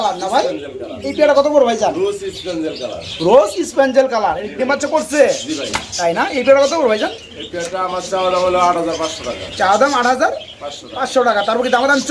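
English Modern pigeons coo and warble repeatedly up close, with a person talking over the birds throughout.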